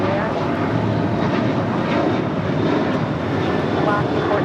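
An airliner takes off from runway 25 right at LAX, its engines a steady, loud broadband roar that holds evenly throughout, with faint radio chatter underneath.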